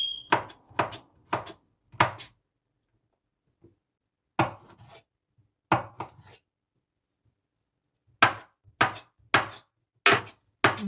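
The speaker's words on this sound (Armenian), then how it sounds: "Հիմա բողկն էլ կտրատեմ" A knife chops radish on a board in short bursts of quick, crisp taps, three or four strokes per group, separated by pauses, close and clear with no talking.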